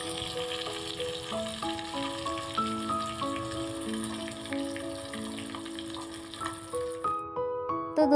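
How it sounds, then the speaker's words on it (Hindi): Small fish sizzle steadily as they fry in a wok, a continuous hiss of hot oil under a melodic background music track, with no talking. "अब हम दूसरे साइड भी मछली को अच्छे से फ्राई होने देते हैं।"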